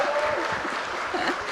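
Brief applause from a studio audience on a television talk show, moderately loud clapping with faint voices underneath.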